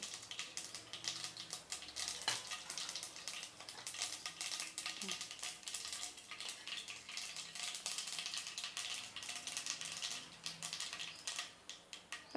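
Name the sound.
mustard seeds and urad dal spluttering in hot oil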